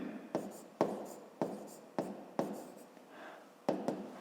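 A math equation being written by hand, a series of sharp pen taps and short scratching strokes at an uneven pace, close and quiet with no one talking.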